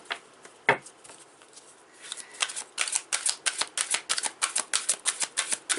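Tarot cards being shuffled by hand, a few soft riffles early on, then a steady run of rhythmic flicking bursts, close and fairly crisp, with no talk.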